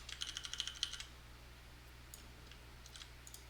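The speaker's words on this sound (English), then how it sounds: "is it just me tapping the keyboard?" Rapid burst of computer keyboard typing during a Final Fantasy XIV session, about a dozen close, crisp taps in the first second, then near silence with a few faint clicks.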